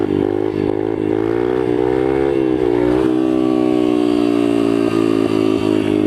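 A pit bike engine revs loud and close, holding a steady high-pitched drone that climbs and settles as the rider pulls wheelies, with no talk over it.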